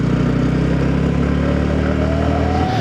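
A Yamaha R15 V3 motorcycle engine drones steadily and loudly while the bike climbs a hairpin bend on a night ride, the engine note rising slightly toward the end as it pulls uphill, with no voices.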